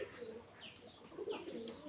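Pigeons kept for sale cooing close by, two soft rolling coos in quick succession over a quiet background, with a faint higher chirp mixed in.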